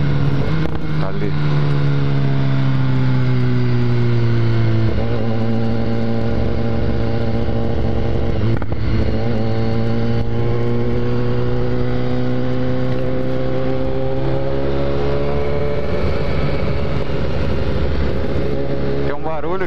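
A BMW S1000R sport motorcycle engine runs loud and close, its pitch dipping and climbing as it revs and shifts, with a voice audible at times.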